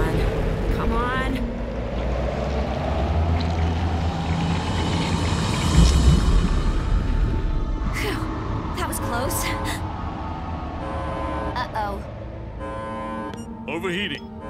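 Boat engines run hard in full reverse with a loud churning drone and rising whine under excited speech, followed by mechanical clanks and beeping alert tones.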